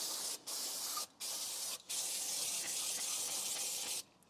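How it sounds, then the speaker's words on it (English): Brake cleaner sprays from an aerosol can onto car brake calipers in a loud, steady hiss, broken by three brief pauses before one longer continuous burst. "I'm just going to give the calipers a last clean off with some brake cleaner."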